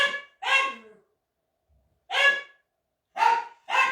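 A dog barks in short bursts, one, then a pause, then three more sharp barks close by and loud, with silence between.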